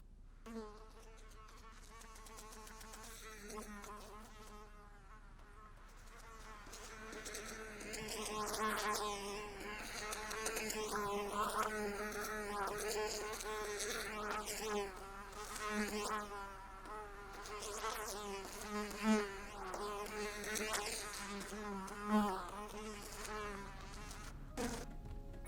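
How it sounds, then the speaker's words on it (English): A buzzing mosquito-like insect drones continuously, its whine wavering in pitch and loudness as if flying close around, growing louder after the first few seconds. "Let's find a sound of a insect flying, maybe a flying buzz"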